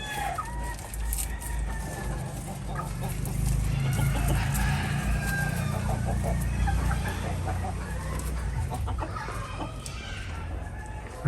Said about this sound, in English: the chickens are getting a bit excited for their nesting eggs